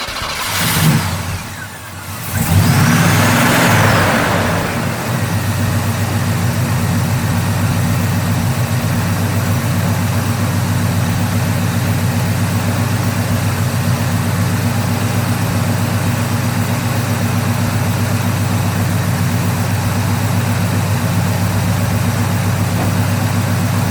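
A 1981 Chevy truck engine cranks briefly, fires and settles into a steady, loud, low idle that rumbles on evenly for the remaining twenty seconds, with no talking.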